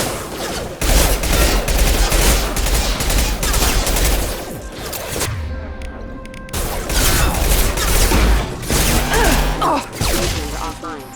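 Dense, continuous gunfire from a Mass Effect 2 firefight on Insanity difficulty, loud and sustained across the clip with a brief lull midway before the barrage resumes.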